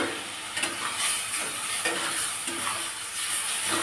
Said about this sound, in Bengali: এভাবে একটু নেড়ে নিতে হবে